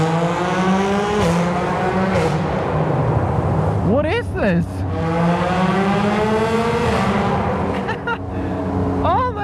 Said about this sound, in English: the one that has the obnoxiously loud exhaust.